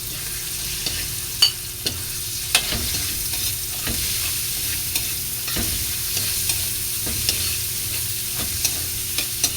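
Liver sautéing in a pan for Filipino batchoy, a steady hiss of frying broken by sharp clacks of a spoon stirring every second or so, close and alone.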